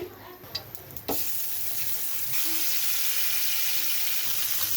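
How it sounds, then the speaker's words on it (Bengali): Fish coated with turmeric and chili is dropped into hot oil, setting off a sudden loud sizzle about a second in that then holds as a steady close crackling hiss. "এই যে মাছটা এখন ভেজে নেব, হলুদ মরিচ মেখে নিয়েছি"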